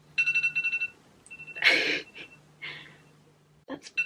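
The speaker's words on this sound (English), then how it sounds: "That's my morning alarm" A bright electronic alarm beeps in quick repeated bursts, then breaks off amid breathy sounds and rustling, with another short beep at the end.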